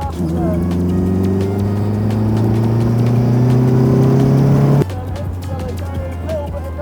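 A fast car accelerates on the Top Gear test track, its engine droning with rising tones that cut off sharply partway through, under a steady road and interior rumble.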